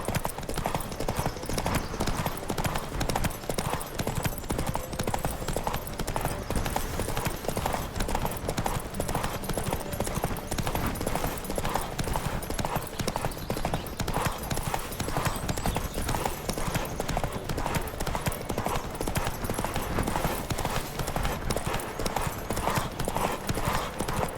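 Hooves of a horse galloping in a race in Witcher 3, a rapid continuous clip-clop rhythm that stays loud and steady throughout.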